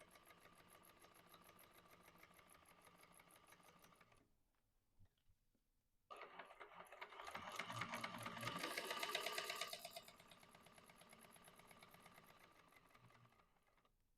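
A sewing machine stitches quilt pieces with a fine seam allowance, humming steadily and faintly, pausing briefly, then running faster and louder before settling back to an even stitching rhythm.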